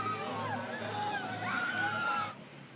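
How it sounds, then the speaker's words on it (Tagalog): Protesters at an anti-corruption rally in Davao City shout and cry out together, with rising and falling wailing voices over a steady crowd roar that cuts off abruptly near the end. "Ivan, umalingaw-ngaw ang sigaw ng hinaing ng iba't ibang grupo dito sa Davao City laban sa katiwalian."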